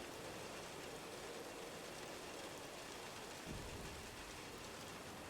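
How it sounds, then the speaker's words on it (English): Steady rain in the video game Dayshift Dandies, a faint, even hiss of drops with no break, broken only by one soft low thump partway through. "Probably just bummed it's raining on the, what is it, Monday?"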